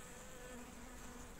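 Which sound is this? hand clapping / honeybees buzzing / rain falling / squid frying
honeybees buzzing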